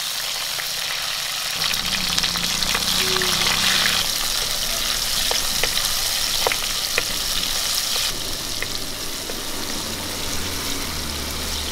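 Chopped tomato frying in coconut oil with fenugreek and curry leaves, a steady close sizzle with occasional stirring clicks and shifts in texture as the pan is handled, and no one talking.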